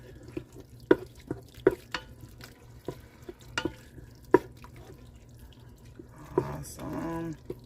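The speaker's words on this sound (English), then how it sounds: "So give this a good stir." A spoon stirs creamy dairy-free cheesy noodles in an Instant Pot, scraping and clinking against the pot in a loose rhythm with thick, wet squelches. A person talks briefly near the end.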